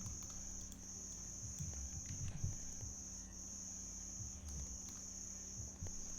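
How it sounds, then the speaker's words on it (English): Crickets chirp steadily in the background, a high continuous trill with faint low rustling and tapping underneath. "So realistic, I can hear crickets."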